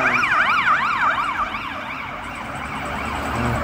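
A Filipino ambulance siren wails loud and close in a rising-and-falling sweep, fading somewhat toward the end over a low rumble of road traffic.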